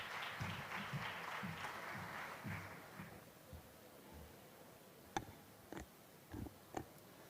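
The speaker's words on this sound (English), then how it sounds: "A good clap for her" Audience applause at the Africa Forward Summit 2026 welcoming the morning's moderator, a broad wash of clapping that fades after about three seconds, followed by a few sharp isolated knocks.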